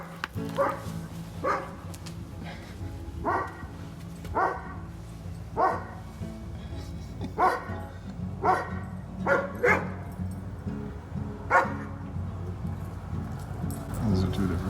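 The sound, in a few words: two different dogs barking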